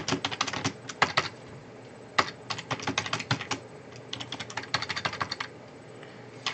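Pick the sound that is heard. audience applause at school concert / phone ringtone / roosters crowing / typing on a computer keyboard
typing on a computer keyboard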